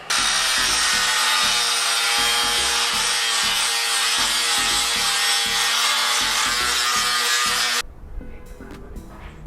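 A power saw cuts steadily through the rusted front subframe of a 1979 Trans Am, a loud continuous grinding rasp that stops abruptly near the end, leaving a few faint clanks.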